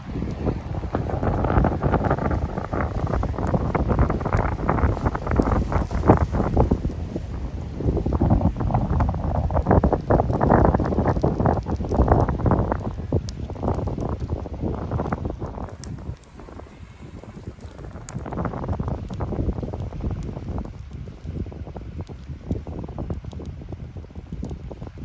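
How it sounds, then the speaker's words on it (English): Strong wind blows across an open outdoor spot on a bright day, a steady loud rushing with microphone buffeting that eases somewhat after the midpoint and then continues. "I don't know if you can hear the wind."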